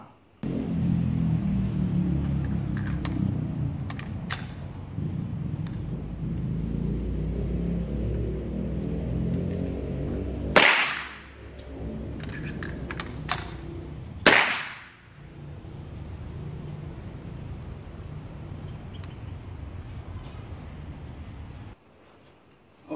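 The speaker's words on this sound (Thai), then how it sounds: "ดีด ซองแม็กออกไป หนีบเข้าร่องไหลแล้วก็เสียบ ปลดโบลแล้วก็ยิงต่อนะครับ" A long rifle is reloaded with a magazine change and bolt release over a steady outdoor rumble, followed by two sharp, loud gunshots a few seconds apart, each trailing off in a ringing echo.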